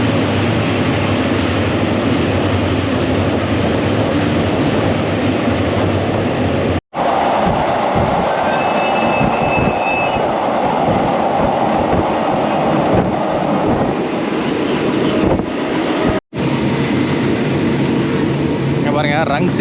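A train from Bangkok to Ayutthaya runs steadily on its rails, with a continuous loud rumble, wheel squeal and clickety-clack heard from onboard for about twenty seconds, with two sharp brief breaks.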